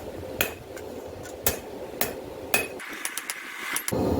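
Hammer strikes on hot steel at an anvil while forging a blacksmith's herb chopper, about seven sharp ringing blows spaced irregularly across a few seconds over low shop noise, no talking.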